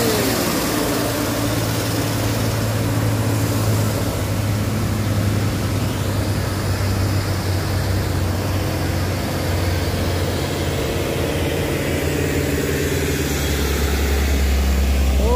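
Truck engine laboring up a steep incline, a constant heavy low drone with dense broadband rumble, close and loud, steady for the whole stretch with slight swells near the end.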